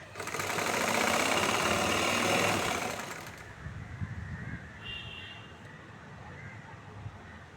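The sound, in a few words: sewing machine stitching the edge of a chudithar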